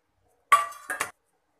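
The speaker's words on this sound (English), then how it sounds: "I am greasing all the plates with oil like this." Metal thatte idli plates are handled while being greased with oil, making one short, close metallic clink followed by a quick second and third knock of the plates, then silence.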